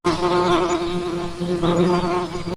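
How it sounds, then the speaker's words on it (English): Bees and gnats buzz in a continuous, close, loud drone with a wavering whine that swells and dips slightly, heard on its own without talk. "a gnat just comes close to your ear and starts buzzing"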